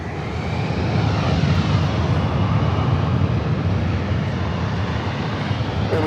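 A Spirit Airlines Airbus A320neo, arriving from San Jose, roars in on approach to LAX's north side, a steady, loud, broadband jet rush that holds evenly throughout with no talk.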